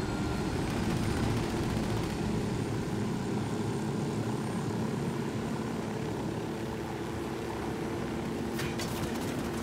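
A helicopter flying in the video game Ghost Recon Wildlands, a continuous loud rotor and engine drone holding steady throughout, with a short burst of higher crackling near the end.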